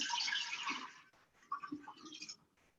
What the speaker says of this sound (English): We're gonna pour that right into the brew jar.